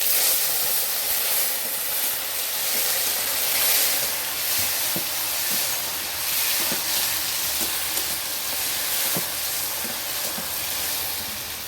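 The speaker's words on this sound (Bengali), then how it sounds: "তার উপর দিয়ে দিচ্ছি কুচিয়ে রাখা টমেটোটা।" Chopped tomato added to a hot pan of sugar-browned oil and ground chili, setting off a loud, steady sizzle and hiss with occasional soft stirring taps, close and continuous.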